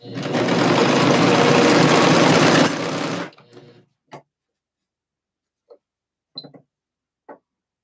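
A sewing machine stitches the Enchanted Skirt in one loud, continuous run of about three seconds, then stops, followed by a few sparse, light clicks and taps.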